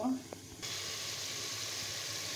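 Ground spices dropped into hot oil for a chicken dish: after a brief clink, a sudden, steady, loud sizzling hiss starts and continues evenly to the end.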